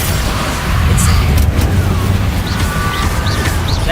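A Confringo blasting spell goes off in the Hogwarts Legacy video game, a loud booming burst with a rumbling low tail and scattered crackles over a steady dense background.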